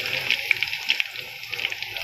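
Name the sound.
lentils frying in oil for nimko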